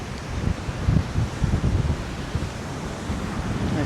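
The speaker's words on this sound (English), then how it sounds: "Oh wow, that is one angry ocean." Rough ocean waves crash under strong wind: a steady, loud roar of surf with gusting microphone noise and no talking.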